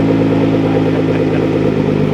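A Nissan GTR fitted with an AAM active exhaust idles in stock mode, giving a steady, smooth, low engine drone that stays even and close throughout.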